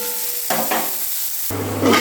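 Bitter gourd and onion fry in a pan with a steady close hiss, broken by stirring scrapes and a louder burst of sizzling near the end.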